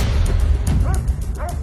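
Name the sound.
dog barking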